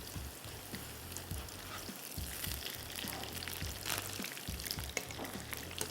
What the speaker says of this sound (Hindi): बस अब इतना पहले फ्राई कर लें। आंच थोड़ी सी आहिस्ता कर लेते हैं ताकि ज़रा कड़क बने